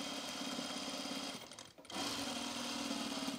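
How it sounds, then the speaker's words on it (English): A sewing machine stitches binding on a jacket in a fast, steady mechanical whir, pausing briefly midway before running again at the same pace, close and alone. "it really sewed through that part really well"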